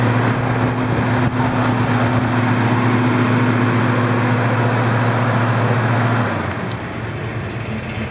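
A 1970 Buick GS455 engine runs at a steady loud drone with a strong low hum, then drops to a lower idle near the end, with no voices.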